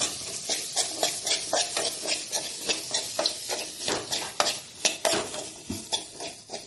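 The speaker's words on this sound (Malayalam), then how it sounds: "അത് നമുക്ക് നമ്മുടെ മാങ്ങ ഇട്ട് കൊടുത്താൽ മതിയേ" A spoon scrapes and stirs mango pickle in a pan, giving rhythmic clinks and scraping strokes with a soft sizzle beneath. The sound is close and steady for several seconds, with no talking.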